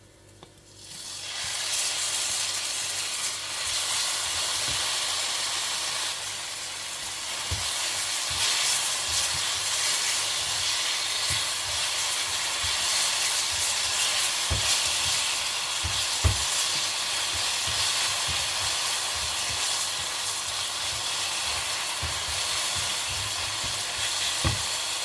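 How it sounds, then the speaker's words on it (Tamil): Mashed roasted brinjal sizzles and hisses steadily in a hot pan as it fries for a Tamil-style thuvaiyal, a dense continuous frying sound with occasional small pops and clicks throughout. "ஒரு 20 செகண்ட் வதங்கட்டு நம்ம இந்த மசிச்ச கத்திரிக்காவை அதில் போடுவோம்."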